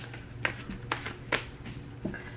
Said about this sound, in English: This is a more difficult deck to shuffle, so it could take a little bit.